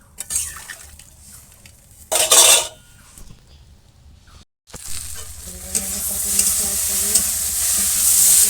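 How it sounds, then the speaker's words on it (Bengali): Pointed gourd and vegetables fry in a hot pan with spices, ginger and chili paste and a little water. A spatula scrapes and stirs in short bursts, and a steady loud sizzle then builds and carries on. "ভাজি হচ্ছে"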